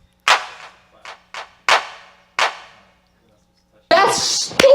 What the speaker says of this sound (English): I don't like that gunshot. There's another one.